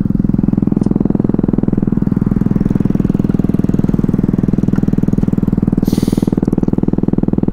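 A Ruckus scooter fitted with a new GET motor runs with a loud, steady, rapid-pulsing engine drone close by for the whole stretch, with no talking.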